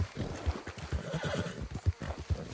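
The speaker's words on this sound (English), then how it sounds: "Now, this right here is a horse." A horse in Red Dead Redemption 2 whinnies over a steady clip-clop of hooves, with several loud thumping steps standing out against the rhythm. The game audio is close and full, and no one speaks over it.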